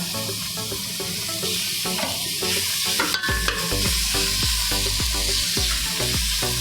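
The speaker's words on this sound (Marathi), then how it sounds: "आता आपण हा टोमॅटो घेतलाय ना बारीक चिरून, तो टाकूया।" Finely chopped tomato dropped into hot oil in a pot for veg pulao, crackling and sizzling steadily, with a spoon stirring and scraping against the pot.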